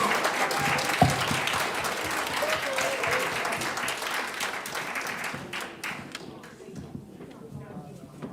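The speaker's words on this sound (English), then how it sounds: "Give them a round of applause." Applause from the audience at a hula competition, a steady dense clatter of clapping that tapers off toward the end, with faint voices mixed in.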